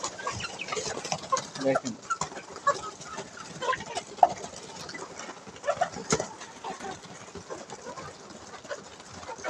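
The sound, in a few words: chickens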